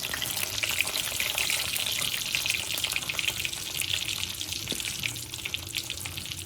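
Mustard and cumin seeds spluttering in well-heated oil for a coconut capsicum fry, a steady close hiss and crackle with dense bright sputtering throughout.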